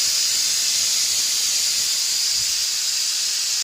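A pressure cooker boiling diced potatoes releases a loud, steady hiss of steam just after its whistle, constant and close, cutting off abruptly at the end with no speech.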